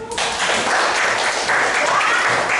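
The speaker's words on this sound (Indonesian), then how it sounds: "Tepuk tangan." A classroom of high school students bursts into loud, steady applause during a history lesson, the dense clapping filling the whole span with faint voices mixed in.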